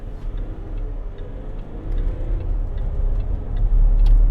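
Range Rover Sport 3.0 SD V6 diesel heard from inside the cabin pulling away, a low engine rumble building gradually in loudness under light ticking.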